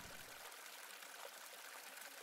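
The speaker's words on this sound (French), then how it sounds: "Au loin, le bruit d'une cascade." Distant waterfall ambience plays as a steady, even hiss of rushing water, soft and uniform throughout with no talking.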